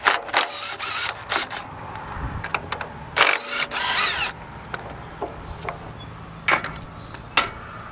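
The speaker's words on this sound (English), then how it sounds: "Now I got a little cordless battery operated impact here. I'm going to take these nuts off." A cordless battery impact wrench takes the bar nuts off a firewood processor's chainsaw bar in several loud, close bursts of hammering rattle, with pauses and clanks of metal handling between them.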